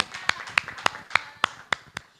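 A church congregation claps in unison during a worship service: about eight sharp, evenly spaced claps land roughly every quarter second, moderately loud and close, with no talking over them.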